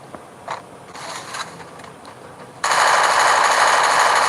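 Gunfire in the Free Fire video game: quiet scraping and faint clicks, then an abrupt loud, steady rattle of rapid automatic shots that runs to the end.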